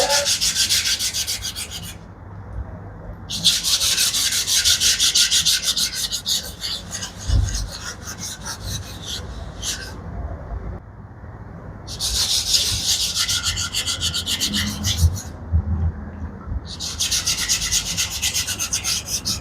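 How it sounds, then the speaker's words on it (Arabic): A piece being wet sanded by hand with sandpaper in water, giving steady, loud, close back-and-forth rasping strokes in long runs, broken by brief pauses, with no talk. "هننزل القطعه بتاعتنا في الميه، ونبدا نصنفر زي ما اتعلمنا بالظبط"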